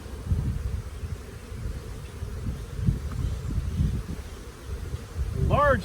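Honey bees buzz steadily and close during a large beehive inspection with pollen frames, a dense continuous hum with brief faint sounds near the end.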